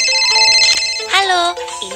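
A cartoon-style telephone rings in a children's Babybus rescue game about a flood, a bright electronic ringtone repeating with rising tonal chirps, loud and close, under game music.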